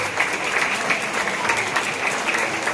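An audience applauds a priest's anniversary at a lunch gathering in Pachía, with steady, dense clapping for a few seconds and no voices.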